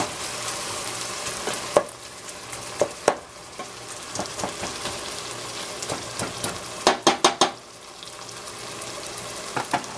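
Garlic fries in a pan, a constant close sizzle broken by frequent spatula scrapes and sharp metallic taps, a quick cluster of knocks near the end, alone without voices.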